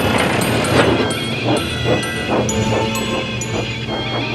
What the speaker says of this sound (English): Edward pushed and puffed and puffed and pushed as hard as ever he could.